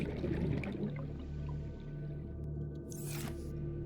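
Squishy liquid gulps and drips of drinking water in the underwater game Subnautica, soft and close over a low steady underwater hum, with a brief bright splash near the end.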